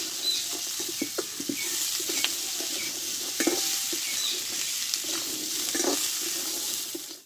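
Green peas frying in a pan while being stirred, a continuous close sizzle and hiss with light irregular pattering and scraping from the spoon, even in level throughout.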